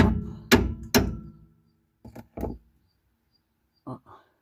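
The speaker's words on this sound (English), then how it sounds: "Let's see what happens if I hammer it" Hammer blows on a Peugeot 404 tie rod end dust boot: two hard, ringing metallic strikes followed by several lighter, duller taps in small pairs with short pauses, close and without talk.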